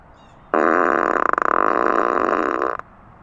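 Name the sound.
car playing fart sound effect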